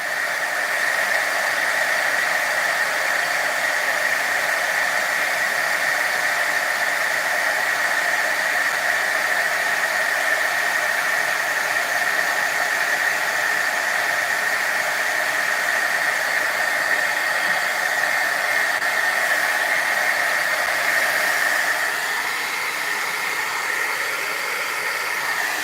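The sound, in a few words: embossing heat tool blowing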